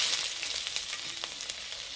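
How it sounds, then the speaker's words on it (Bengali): Chopped onions sizzle in about two spoons of hot white oil in a kadai, a steady, bright, continuous hiss, close and alone. "তেলে দেবো কোচানো পেঁয়াজ"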